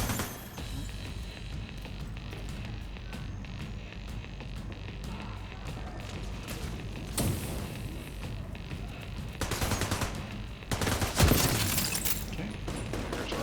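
Sniper rifle headshots in a video game, fired from a one-shot sniper build: several sharp, loud bursts stand out from a steady bed of game noise, with one strong crack near the end.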